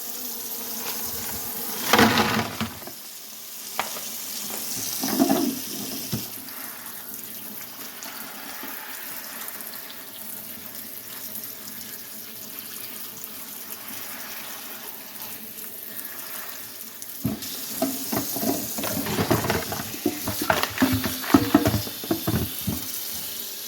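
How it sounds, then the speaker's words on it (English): Tap water runs over thawing shrimp in a colander in a home kitchen, a steady wash with louder splashing bursts near the start and again toward the end. "Shrimp, you need to put in a colander and let it start running under some water and de-thawing."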